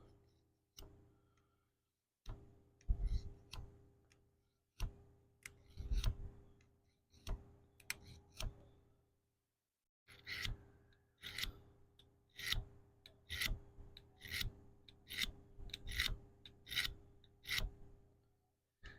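Repeated scraping strokes of a knife blade drawn through a Corona sharpening tool, in short rhythmic bursts with pauses between, close and fairly quiet.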